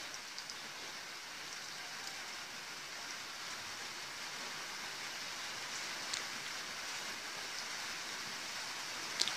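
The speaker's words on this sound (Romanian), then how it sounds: "Sunetul ploii." Steady rain falling evenly over everything during a long-awaited May shower in Vrancea, Romania, a continuous soft hiss with scattered drip taps, alone and without voices.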